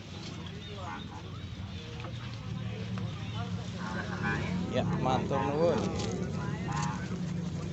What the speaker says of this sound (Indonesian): Yo, lihat burung.